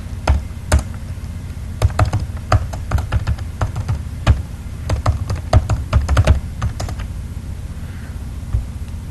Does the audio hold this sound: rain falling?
no